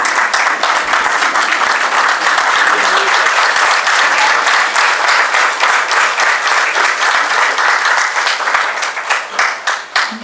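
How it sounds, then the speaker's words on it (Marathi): An audience applauds after a lecture, loud, sustained clapping from many hands that thins out and fades toward the end. "एकदा जोरदार टाळ्या वाजवून"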